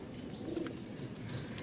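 A Giribaz pigeon in a Rajshahi loft gives soft, low cooing calls, fairly quiet against a light background hiss, with a faint flutter of wings and no speech.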